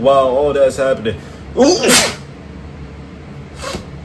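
A single sharp human sneeze in the middle of casual talk during a Fairy Tail anime commentary, with speaking before it and a quiet pause after.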